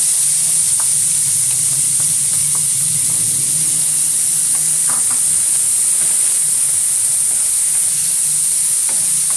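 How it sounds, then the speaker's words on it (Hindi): Cumin seeds and chopped onion fry in oil in a pan for potato snacks, giving a steady close sizzle with a few faint stirring clicks and no voices. "इसको हल्का सा फ्राई कर लेंगे। अब मैं प्याज इसमें डाल दूंगी।"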